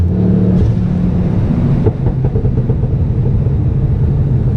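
A Mk2 Ford Focus ST with a cracked liner and suspected turbo trouble pulls under acceleration, its engine a loud, close droning rumble that steadies midway as the revs settle, heard from inside the car without talk.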